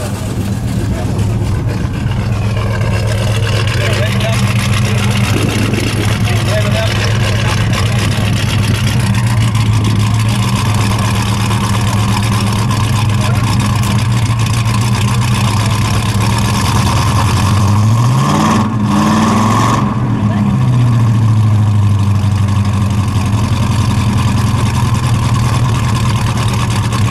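A 1968 Dodge Charger R/T with a 426 Hemi V8 runs with a loud, continuous low rumble close by, briefly revving with a rising and falling pitch near the end, and some talk beneath it.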